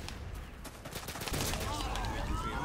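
Repeated shots from an M9 pistol in Call of Duty: Modern Warfare 2 sound as a quick run of sharp cracks. A denser, louder burst of battle noise and clatter builds toward the end.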